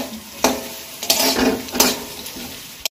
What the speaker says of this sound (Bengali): সকালে ব্রেকফাস্টের জন্য আলু ভাজা হচ্ছে এখানে।